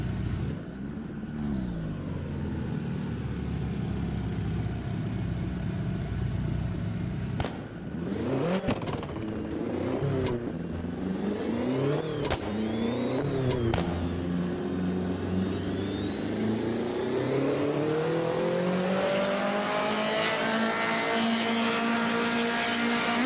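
A turbocharged car engine in Assetto Corsa, a naturally aspirated engine converted with a turbo tune, revs on a dyno with rising and falling whine, a brief break and stutter midway, then a long sustained climb with a high turbo whistle.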